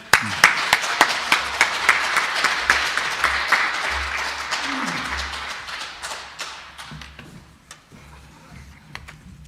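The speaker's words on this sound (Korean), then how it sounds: "우리 나오실 때 큰 은혜를 받기 위해서 박수 한번 하도록 하십시다." A church congregation claps together, starting as a sharp, steady rhythmic clap that softens into a dense, scattered round of applause and gradually fades, with faint voices underneath.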